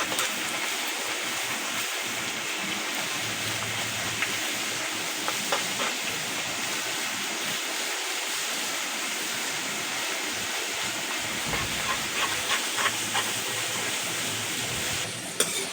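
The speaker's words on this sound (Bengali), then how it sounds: "2 থেকে 3 মিনিট এভাবে নাড়াচাড়া করে আলুগুলোকে ভেজে নেব।" Thin julienned potatoes fry in hot oil and are stirred, a continuous bright sizzle and bubbling hiss, moderately quiet, with occasional soft scraping from the stirring and no talking.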